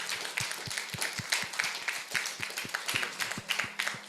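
Audience applause at a teachers' institute session, steady dense clapping from a moderate-sized crowd with a few sharper individual claps standing out, continuing evenly throughout.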